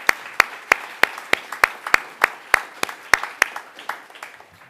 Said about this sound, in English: Can we give the staff a round of applause?